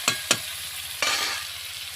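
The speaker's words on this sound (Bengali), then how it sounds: "চিকেনটা দিয়ে দিলাম, চিকেনটা ধুয়ে রেখেছিলাম ঝুড়ির মধ্যে। চিকেনটা দিয়ে একটু নেড়ে" Chicken pieces frying in a hot pan: two quick stirring scrapes followed by a third, with a steady bright sizzle hissing underneath, close and clear with no voices.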